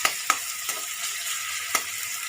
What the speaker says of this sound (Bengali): পেঁয়াজটা একটু ব্রাউন হোক